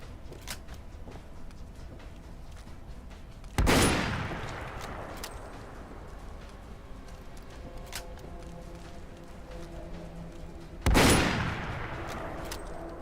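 Two loud, sharp blasts ring out several seconds apart over a steady background of scattered distant shots and clatter during heavy gunfire in the video game Fallout London, with no voices.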